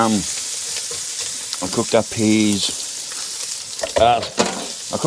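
Bacon frying in a pan outdoors, a steady crackling sizzle running underneath a voice as he talks, with bursts of harmonic tone from his speech laid over the frying.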